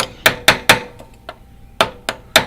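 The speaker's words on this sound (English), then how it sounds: "I'm like hammering a T-nut in?" Sharp hammer blows driving a T-nut into a pinball machine cabinet during an Elvira and the Party Monsters rebuild, six loud close strikes in two quick groups of three with a brief pause between.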